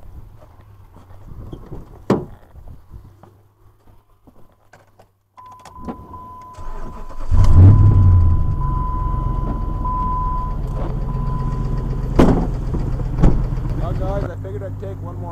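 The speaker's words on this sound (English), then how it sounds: "Just gotta go start the truck and we'll be off to the stand." A truck engine cranks and starts, then settles into a steady, loud idle rumble, with a few door or key clunks and some talking before it.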